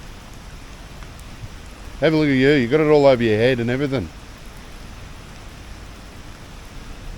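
Steady rain falls outdoors at Lake Mountain, a soft, even hiss that runs the whole time. Someone speaks briefly over it midway.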